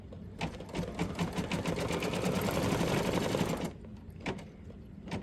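An embroidery machine stitches down an appliqué piece on a pillow in a rapid, even needle patter that carries on for several seconds, then stops, leaving a few faint clicks.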